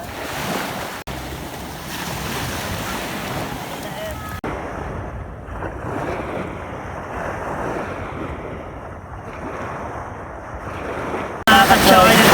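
Sea waves wash in and out at a Philippine beach with heavy wind buffeting the microphone, a constant rushing roar with people talking underneath.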